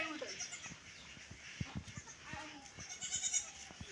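Newborn kids and their mother goat are heard in a faint, distant setting with soft bleats, scattered knocks and clicks, and rustling noise, while birds chirp faintly in the background.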